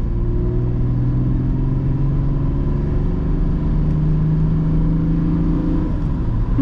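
A 1989 BMW 524td turbodiesel saloon pulls away out of a built-up area, its engine a steady, loud in-cabin drone with rising harmonic tones as it accelerates through the gears, continuous with no talk.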